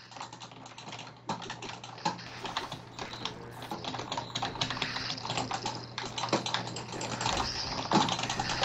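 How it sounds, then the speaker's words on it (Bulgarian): Computer keyboard typing during Minecraft mini-game play, a dense run of quick clattering keystrokes with a few louder key hits, close and moderately quiet over a faint steady hum, no voices. "Леле, как се чува клавиатурата?"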